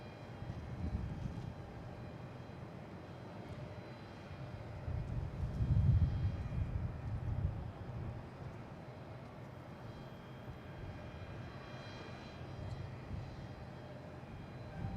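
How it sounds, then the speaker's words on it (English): An SAS Airbus A350-900 heavy jet airliner arriving from Copenhagen rumbles in over Logan Lagoon at Boston Logan International Airport, a low, distant roar that swells around the middle and then settles back to a steady drone. "we got one of our heavies coming in over the Logan Lagoon"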